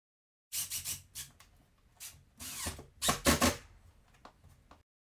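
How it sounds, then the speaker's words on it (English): A power drill with a 1/4-inch bit whirs in several short bursts, drilling holes into a garage wall, revving up and cutting off, close by with pauses between. "We're going to use a 1/4-inch drill bit to drill our holes"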